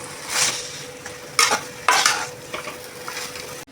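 Masala sautéing with chicken in a pan for chicken kulambu, soft sizzling under a few loud scraping bursts of a spatula stirring, ending with a sharp knock against the pan.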